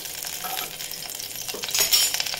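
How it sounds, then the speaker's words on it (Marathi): Vermicelli frying and being stirred in hot ghee in a pan, a steady soft sizzle with scraping stir strokes and a louder burst near the end. "आता आपण याच्यामध्ये शेवया घालून घेऊ। शेवया चांगल्या भाजून घ्यायच्या, थोड्याशा लालसर होईपर्यंत।"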